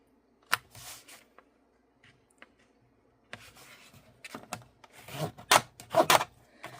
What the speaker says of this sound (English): And then we will just fold this in half